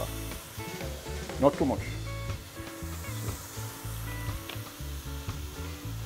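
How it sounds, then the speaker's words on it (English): String beans frying in a pot in a home kitchen in Paramin, Trinidad and Tobago, giving a soft steady sizzle with stirring scrapes, and people talk over it throughout. "I will leave that fry up there"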